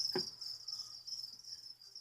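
Crickets in a breeding setup with egg cartons chirp in a faint, steady high trill with a single soft click near the start.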